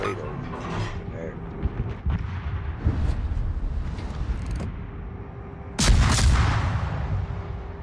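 Torpedo hits in the World of Warships naval battle game, heavy booming explosions over continuous battle rumble, with a large loud impact burst near the end.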